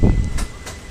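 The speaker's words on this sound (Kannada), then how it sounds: "ಸೋಲಾಪುರ್ ಜಂಕ್ಷನಿಂದ ನಮ್ಮ ಟ್ರೈನ್ ಡಿಪಾರ್ಟ್ ಆಗಿದೆ." An express train on the Kalaburagi to Surat route rolls along just after pulling out of Solapur Junction, heard as a brief, steady low rumble with a slightly louder start.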